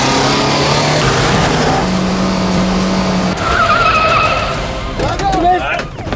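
A car accelerates hard in a dead-end chase scene from a police crime drama, loud tire squeals and skidding rising over engine roar, with a sudden impact-like break midway and shouting voices over the commotion.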